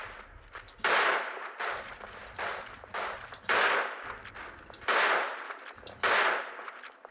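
World War One artillery and gunfire in the trench-warfare game Verdun: heavy blasts boom roughly every second in a ragged run of about seven, each with a sharp crack and a rumbling tail.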